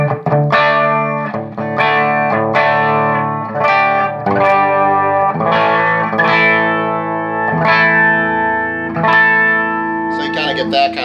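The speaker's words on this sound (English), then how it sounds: "I think the Jamtastic pedal picks up more like of the raunchy sound" An electric guitar played through a Jamtastik effects pedal gives a raunchy, distorted, chorus-tinged tone with strummed chords and sustained notes, loud and continuous with reverb.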